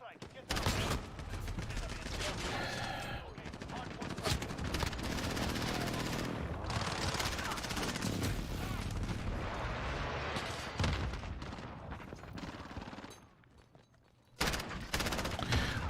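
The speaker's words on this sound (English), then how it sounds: "Enemy precision airstrike" A precision airstrike in Modern Warfare brings a dense, loud barrage of explosions and rapid automatic gunfire that rolls on with almost no break. A voice calls out over the noise, and the barrage drops away briefly near the end before it resumes.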